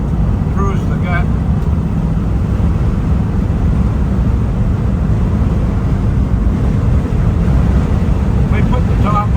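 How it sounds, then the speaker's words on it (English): Steady broadband wind roar fills the cabin of a yellow 1965 Ford Thunderbird convertible cruising at 65 mph with the top up, loud and continuous under road rumble, with faint voices in the background. "We put the top up so I'd be quiet, but we're still getting a lot of wind noise in here."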